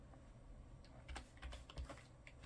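A handful of soft keystrokes on a computer keyboard as a discount code is entered, scattered clicks over a low background hum, quiet and close.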